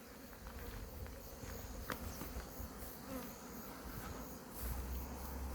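Hornets buzz steadily around beehives and a hornet trap in a low, continuous drone, with a few faint taps and rustles outdoors.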